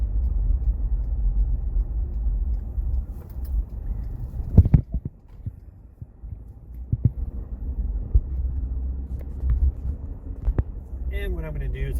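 A 2020 Ford Ranger pickup truck drives on a grocery run, with a steady low engine and road rumble heard from inside the cab and a few clunks and knocks along the way.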